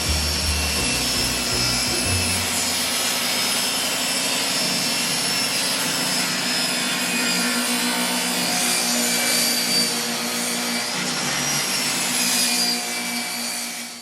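Power saw cutting wood boards at 45-degree angles for a faux beam, a loud, sustained high whine running nearly continuously close by.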